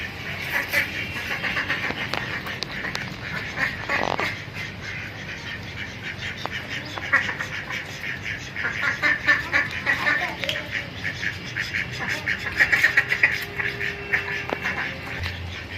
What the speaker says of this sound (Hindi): ये देखो मेरे बतख कितना भागती है मेरे पीछे।